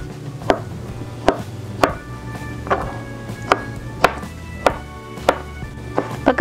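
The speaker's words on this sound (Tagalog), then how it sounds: "itong peach naman po ang isunod nating hiwain ng maliliit na cubes" A knife chops a peach into small cubes on a cutting board, giving about a dozen crisp, evenly spaced knocks close by, with no talk over them.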